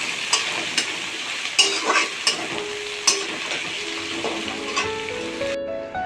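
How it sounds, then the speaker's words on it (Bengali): Onion, garlic and green chilli fry in hot oil with a steady close sizzle, broken by a few sharp spoon scrapes and taps against the pan. No one speaks. "পেঁয়াজ, রসুন, কাঁচা লঙ্কা দিয়ে দিলাম গরম তেলের মধ্যে। এবার একটু ভালো করে ভেজে নিচ্ছি।"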